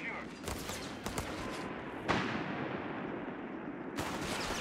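Soldiers firing rifles in the Company of Heroes 3 video game, a battle scene with scattered sharp gunshot cracks, mostly single shots rather than a full volley, over a busy rumbling background with some voices.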